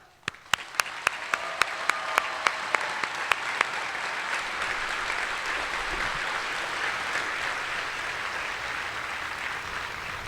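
At an Air Force basic military training graduation ceremony, a few sharp, evenly spaced claps quickly swell into broad, sustained applause from a large crowd for the training team.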